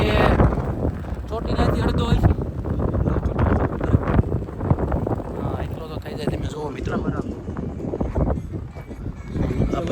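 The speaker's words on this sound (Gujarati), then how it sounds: "પવન એટલો આવે છે ને કે તમે જોઈ જ શકો છો મારા વાળ ઉડે" Strong, cold wind sweeps across Tarsingdo hilltop in Saurashtra, near a full dam. Gusts buffet the microphone in a low, continuous rumble under someone talking.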